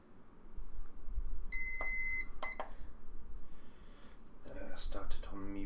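Short electronic beeps from a wristwatch timer being reset during a morning exercise walk, a brief pair of tones followed by a few more near the end, heard close over steady outdoor background noise.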